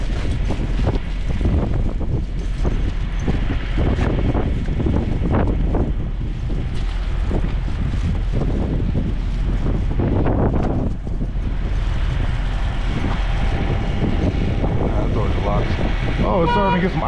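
High winds roar and buffet the microphone without a break while someone walks outdoors through ice to a shower. The rushing is loud and constant, with gusts that swell and ease.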